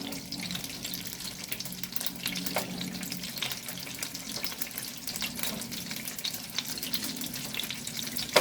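Meatballs browning in a pan give off a steady, even sizzle of frying fat, with faint scattered pops and occasional light stirring, moderately close and with no talking.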